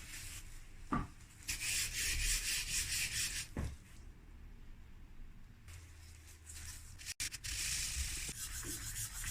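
An old Stanley 9 1/2 block plane blade has its edges sanded in a steady, continuous scratchy rubbing, close and fairly loud, with short pauses between strokes and no talking.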